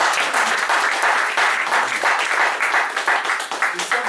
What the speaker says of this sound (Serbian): ja bih zamolio za još jedan aplauz za Teodora